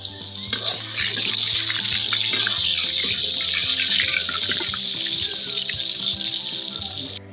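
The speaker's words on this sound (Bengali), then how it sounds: "ভেজে নিচ্ছি শুকনো মরিচ" Dried red chillies frying in hot oil for an aubergine mash, a steady bright sizzle with small crackles that holds at one level from start to finish, close and alone with no talk over it.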